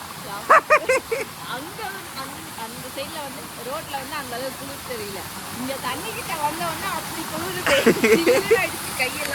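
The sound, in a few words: small waterfall flowing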